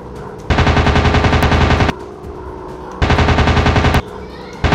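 Rapid machine gun fire from an aircraft in the Warplanes video game, two loud sustained bursts of about one and a half seconds each, separated by a short pause filled with engine drone.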